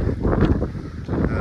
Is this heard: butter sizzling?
no